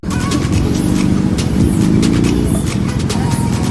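Suzuki Hayabusa superbike engine running close by, a loud steady rumbling drone that holds and swells slightly for a few seconds without talk.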